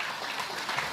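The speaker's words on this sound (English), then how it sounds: "Give them a round of applause." A crowd gives a round of applause for the TKR team at a community event, soft and somewhat distant, a continuous dense patter of clapping throughout.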